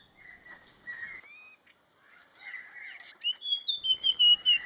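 A taiga flycatcher (Ficedula albicilla) calls in Thailand: thin, high whistled notes and short trills, faint at first and then clearer and more rapid near the end, with other birds chirping softly behind.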